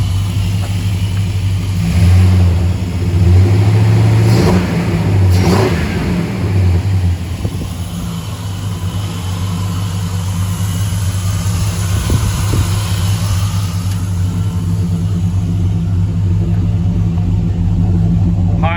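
A 1985 Chevy C10 pickup with Jones Full Boar mufflers rumbles loudly nearby, giving a few sharp revs early on before settling into a deep, steady idle burble.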